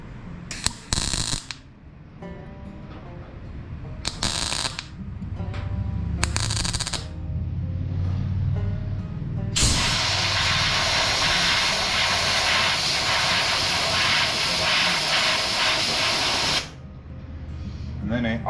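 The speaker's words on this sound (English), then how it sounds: "So you're hearing that pop and then the sizzle" A MIG welder lays a bead on a 1981 Monte Carlo passenger-side fender, a loud continuous crackling sizzle lasting several seconds after earlier short bursts, with a voice talking near the start.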